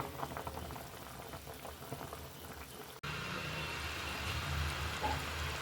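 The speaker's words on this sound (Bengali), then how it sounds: "আবার ঢেকে দিলাম, কিছুক্ষণ জাল হবে।" Tengra fish curry with pumpkin bori simmers in a covered pot, a faint, busy bubbling and crackle that cuts abruptly midway into a steadier, fuller hiss of the covered boil.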